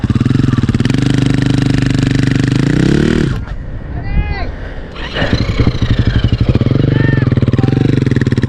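A rally engine on a Moroccan desert piste revs hard and steady, then drops away. It picks up again in choppy, pulsing bursts, loud and close, with a brief voice in the lull.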